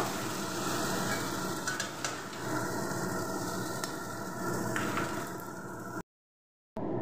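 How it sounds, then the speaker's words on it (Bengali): Shrimp frying in hot oil in a kadai, a steady close sizzle and crackle with occasional scraping as they are stirred, ending in a sudden cut to silence. "চিংড়িগুলো একটু নাড়াচাড়া করে তেলের মধ্যে খুব ভালো করে ভেজে নেব।"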